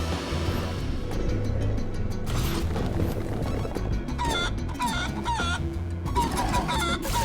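Chicken clucking in the game Guacamelee! 2, a string of short squawks and clucks over thumping, crashing combat hits, close and busy, with no talking.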